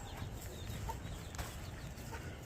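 Chickens cluck faintly and intermittently at a distance over a low, steady background rumble.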